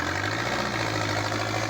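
Old Japanese-built Kubota M7030 tractor diesel engine running steadily at a low idle, a close, continuous rumble with a faint knocking throb and no talk.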